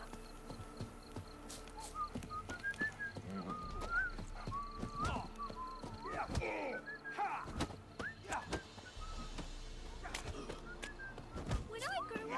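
Roach, Geralt's horse in The Witcher 3, clops along in steady hoofbeats and gives whinnying calls amid game ambience, with a voice in the background.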